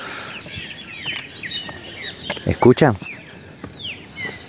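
Small birds chirp and tweet in quick scattered calls over an outdoor hiss at an airport, with a brief spoken question in the middle.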